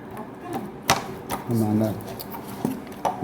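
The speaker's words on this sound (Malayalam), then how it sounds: "ചെറുതാക്കി അരിയാം" Beef, from a local buffalo, being cut with a knife, giving a few sharp, spaced chops close by while a person talks over them.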